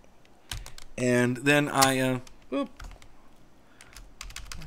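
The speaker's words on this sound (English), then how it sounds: "my keyboard went a little nuts there for a second" Clicks from a computer keyboard sound in short scattered bursts at a Linux terminal, mixed with someone talking briefly over them.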